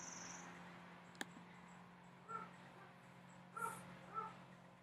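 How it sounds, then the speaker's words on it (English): A dog named Benny gives a few faint, short yips or barks, three small calls in the latter half over a quiet room hum, with a sharp click early on. "with Benny barking and all the noise and stuff"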